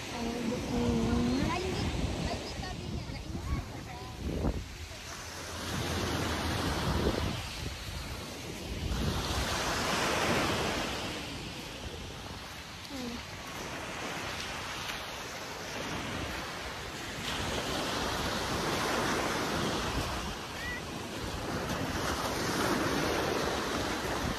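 Sea waves wash steadily onto the shore at Talisay beach in San Jose, Camarines Sur, in broad repeated surges with wind buffeting the microphone, and voices are heard now and then.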